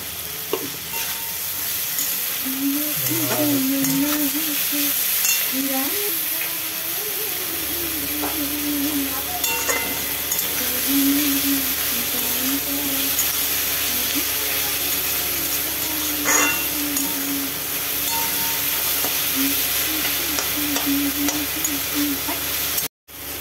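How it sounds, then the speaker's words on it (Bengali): Onions frying in a pan for a chicken kosa, a steady sizzle and hiss running throughout with intermittent scraping and clinks of a spoon stirring. "এবারে পেঁয়াজটা ভাজা হচ্ছে, পেঁয়াজটা লাল লাল করে ভাজা হবে।"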